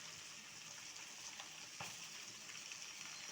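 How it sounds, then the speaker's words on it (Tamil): A prawn curry with ridge gourd boils in a pot, giving a faint, steady bubbling hiss with a few soft pops and no voices. "குழம்பு கொதிச்சிருச்சு"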